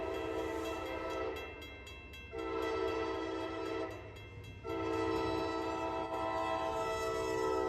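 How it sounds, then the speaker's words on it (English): A CSX freight train led by a C40-9 locomotive passes while its horn sounds in three long, loud blasts with short gaps between them, over a steady rumble of the rolling train. "we look at full-size trains, such as this CSX LO70, with C40-9 9025 in the lead"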